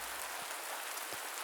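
Steady rain falls on a campsite at night, a dense even hiss of drops with a couple of soft low thumps, close and constant throughout.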